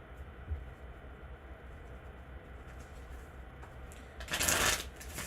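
Tarot cards being shuffled at close range during a reading: a soft, low background hiss, then a loud, dense riffle burst near the end.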